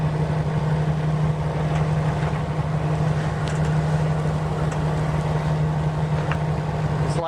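A sailboat motors out of harbour under engine in light wind, its steady low engine drone and hull rumble continuous and close throughout, with faint water and wind wash on top.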